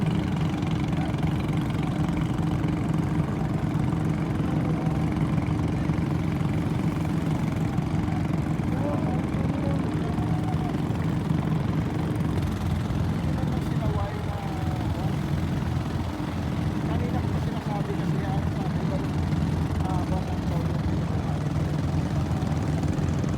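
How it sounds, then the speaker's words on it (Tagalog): A fishing boat's engine drones and chugs continuously at moderate distance on Manila Bay, with faint chatter and background noise mixed in throughout. "Yung tunog ng bangka."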